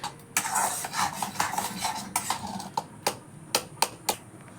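Mango pulp mixed with a little sugar and cornflour is stirred in a bowl before cooking, giving soft scraping swishes punctuated by several sharp utensil clinks against the container, close and without talk.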